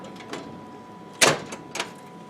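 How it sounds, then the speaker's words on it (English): Bottom door of an IGT S2000 slot machine being unlatched and opened, a sharp metallic clack followed by a lighter second clunk over a faint steady hum, close by with no talking. "lift up, pull this out to open the bottom door."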